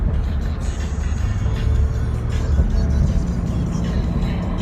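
Car engine and road noise from inside a vehicle driving to San Diego, a steady low rumble with constant hiss, close and continuous with no clear talk.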